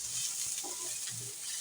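Vermicelli roasting and being stirred in a pan, a steady close sizzle with soft scraping strokes throughout, no voices.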